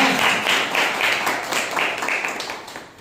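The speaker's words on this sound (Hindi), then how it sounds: "एक जोरदार ताली बजाइए।" Church congregation at a Sunday service clapping together, a broad rolling wash of many hands with slightly rhythmic surges, fairly loud and fading a little toward the end.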